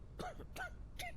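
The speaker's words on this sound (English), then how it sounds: "Can you stop coughing on me" A character in a zombie quarantine survival video game coughs three times in quick succession, each one short and fairly faint, spaced evenly over about a second with no talk.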